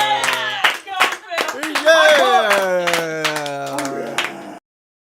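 A recorded cheer is played during a livestream: loud whooping, yelling voices mixed with sharp clapping for about four and a half seconds, then cutting to silence.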